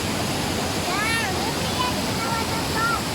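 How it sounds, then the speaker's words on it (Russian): A large waterfall in Chiapas, Mexico, roars as a constant, broad, near wash of falling water, with faint chirping sounds and a voice or two briefly rising over it. "Мы приехали на водопад."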